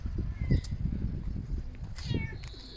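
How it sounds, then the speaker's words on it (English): A black cat meows twice in a cemetery crypt area in Portugal, short nasal cries near the start and again later, close by and fairly soft. "Beautiful black cat."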